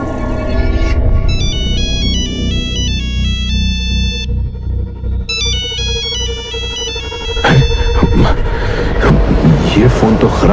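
A loud electronic phone ringtone plays a repeating melodic pattern, pausing briefly before starting again, with a burst of noisy rumble near the end.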